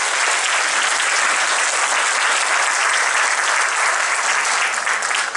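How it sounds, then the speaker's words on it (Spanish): A church congregation at a Spanish-language Advent retreat service in Miami breaks into steady, dense applause, loud and sustained throughout with no pauses and no voices standing out. "Denles aplausos al Señor maravilloso"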